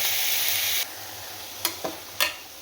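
Oggarane tempering for a thogarikalu soppu bassaru sizzles steadily in a pan, then drops quieter, broken by a few sharp stirring clinks and spoon taps, with no voices.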